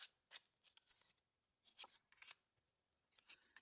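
A deck of cards is given a quick shuffle, with several short riffling bursts and crisp papery flutters, close and fairly quiet, with brief pauses between them and no talk.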